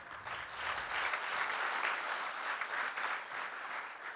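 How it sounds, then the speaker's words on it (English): Loud, sustained applause from an audience at the Sivanta property launch event, dense steady clapping filling the whole stretch without a break. "For the loudest applause."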